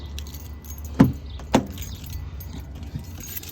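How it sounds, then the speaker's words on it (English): Car keys give two short, sharp jangles close by, a second apart, over a low idle-like hum in a garage, beside a 2014-2020 Range Rover Sport Supercharged under auxiliary radiator repair. "Grab the keys."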